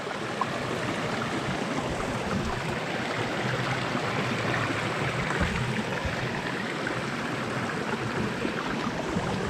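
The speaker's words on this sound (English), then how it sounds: "I hope everybody enjoyed the sound of the water running through here" Stream swollen after heavy rain, water rushing and splashing continuously over its bed, a broad steady wash of sound heard up close with no voices.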